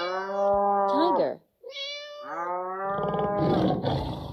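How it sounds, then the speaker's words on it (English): A cartoon tiger lets out a series of loud, close roaring growls in several bursts that rise and fall, ending in a harsher, noisier snarl. "Tiger."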